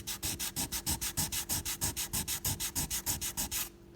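A steel fishing hook rubbed against a piece of wood to strip its finish: about twenty quick, evenly spaced scraping strokes in a steady back-and-forth rhythm, close and clear, ending abruptly.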